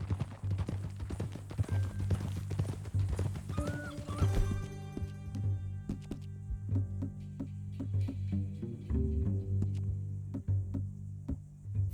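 A horse's hooves clip-clop in a steady walking rhythm in Red Dead Redemption 2, close and clear, with a short neigh partway through and game music or ambience underneath.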